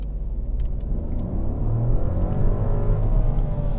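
A 95 hp 2021 Audi A1 Sportback accelerates hard from second gear, its engine rumble rising and building steadily over nearly four seconds, heard from inside the cabin with no talking.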